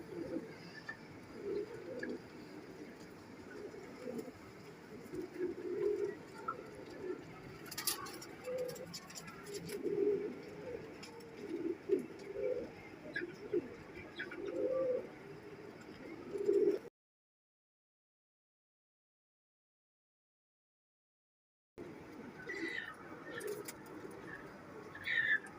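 Sialkoti pigeons coo in soft, low, repeated calls close by, with a few faint chirps and rustles, then a stretch of silence before the cooing resumes.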